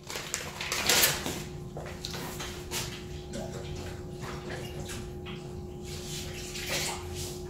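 A synthetic cast bandage is soaked in cold water, with nearby sloshing and trickling water and a few brief knocks, while a faint steady hum runs underneath.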